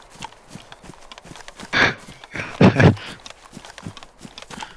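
Hooves of a cow running in the DayZ video game, two short thudding clip-clop bursts close by over quiet game ambience.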